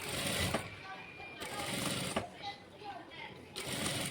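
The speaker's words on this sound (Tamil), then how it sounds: "இப்போ இதில் ஓரமாக ஒரு ஸ்டிச் கொடுத்துக்கலாம்" A sewing machine runs in steady, loud bursts with short pauses while stitching a seam along the edge of an umbrella frock made from a silk saree.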